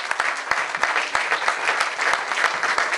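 An audience at a Sicilian dialect poetry awards ceremony applauds for a poet, a steady, dense clapping that fills the room without pause from start to finish.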